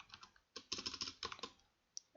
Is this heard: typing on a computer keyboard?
yes